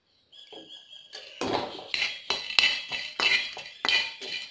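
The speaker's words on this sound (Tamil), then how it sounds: "அதுக்கப்புறம் பட்டை, கிராம்பு, அன்னாச்சி பூ எல்லாத்தையும் ஒன்றா போட்டு வறுத்துக்குவோம்." Cinnamon, cloves and star anise dry roasting in a pan, heard as a series of close, crisp clinks and rattles as the hard whole spices are stirred and tossed against the metal, with no talk.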